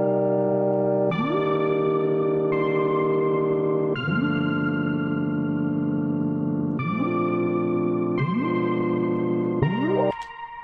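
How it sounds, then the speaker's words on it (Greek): A synthesizer's Crystal Bells preset from Analog Lab plays a slow melody of sustained bell-like tones with gliding pitch rises into each note, shimmering with echo and reverb, ending in a brief bright burst. "Bells, ονομάζεται Crystal Bells,"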